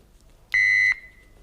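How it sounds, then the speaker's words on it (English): A quiz show buzzer sounds once at the end of a semi-final round: a single loud, steady electronic tone lasting about half a second, clear and close with no talk over it. "that's the buzzer for the end of this semi-final"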